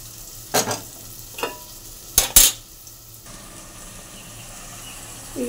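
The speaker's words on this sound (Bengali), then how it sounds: "চাল ডালটা দিয়ে দিলাম, একটু লবণ দিয়ে দিলাম, একটু নাড়বো আর কি, ভেজে নেবো চালটা" Washed rice and lentils with a pinch of salt being stirred and fried in a pan, giving a few sharp scraping strokes early on over a steady low sizzle, with no talking.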